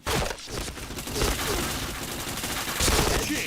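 Dense, loud gunfire in a shooter video game rattles out in a rapid, nearly continuous volley of overlapping shots for a few seconds.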